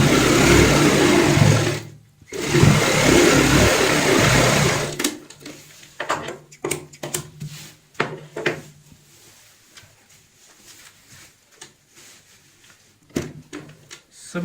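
A sewing machine stitches a round cushion cover with a loud, fast, continuous whirring run that pauses briefly, restarts, then gives way to scattered clicks and handling knocks of the fabric and machine.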